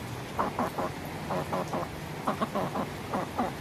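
A live chicken clucks in short, repeated bursts, close and fairly loud, before it is slaughtered for a whole grilled chicken at a rustic hut camp. There is no talk.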